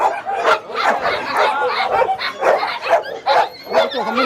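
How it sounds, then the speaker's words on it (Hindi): Dogs fighting at the Sonpur Mela dog market, loud overlapping barks, yips and snarls in rapid bursts close by, with crowd chatter underneath. "देखिए लड़ाई कर रहा कुत्ता उधर में, देखिए इधर में कुत्ता लड़ाई कर रहा।"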